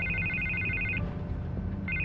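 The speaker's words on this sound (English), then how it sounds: "I can't get the phone to stop ringing." A phone rings repeatedly in the Batman Telltale game, with bright electronic trills in steady bursts, a pause, then the ringing resumes over a low ambient background.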